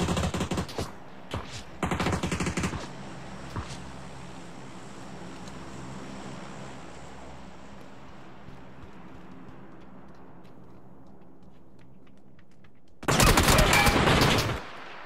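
Automatic gunfire rips out in a shooter video game: dense bursts of rapid shots at the opening, a quieter rumbling stretch, then another loud sustained burst near the end.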